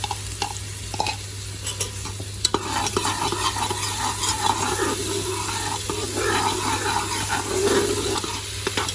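Ginger garlic paste fries in oil for a keema samosa filling, a dense close sizzle with frequent scraping stirs and clicks of a spoon against the pan, with a constant low hum underneath.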